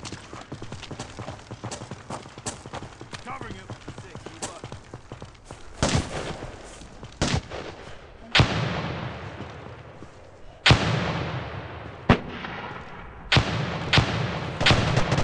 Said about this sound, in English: I'm gonna throw a nade to counter that guy.